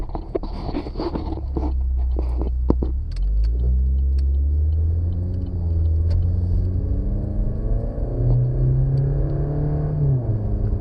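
A Chevrolet Cruze 1.4 Turbo fitted with an aftermarket intake drives through town at normal speed. Its engine hums steadily and close by, rising and falling as it accelerates and shifts, with no talk over it.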